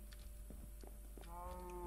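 Cow in the Minecraft farming modpack Agrarian Skies, lowing with a drawn-out harmonic moo near the end, preceded by short clicks and game sounds, moderately loud and close with no talk.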